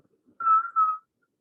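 Strong wind whistles through a car's moon roof on a very windy day: a thin, steady tone in two short, close pulses, quiet and alone.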